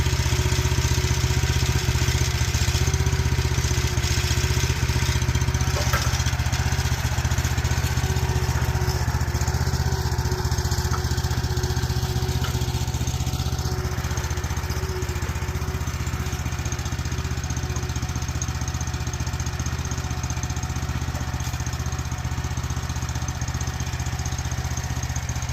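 A gas-powered post hole digger's small engine runs steadily outdoors during shop foundation work, a constant buzzing drone at moderate level with no speech over it.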